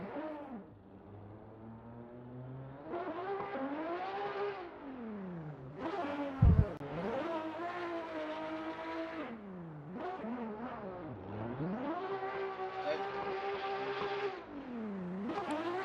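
Drift cars sit in burnout boxes before a battle at Sportsland Sugo, their engines revving hard in long rising and falling wails with a sharp bang partway through, heard from a distance across the track.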